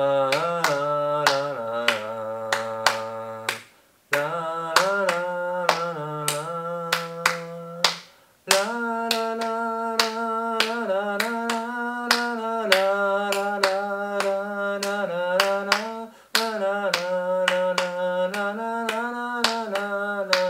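Sharp hand claps keep a steady seven-beat Balkan rhythm under a sustained accordion melody, the crisp strikes recurring evenly across the phrases with brief pauses between sections.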